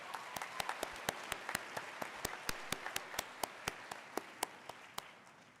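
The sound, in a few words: graduation ceremony audience applause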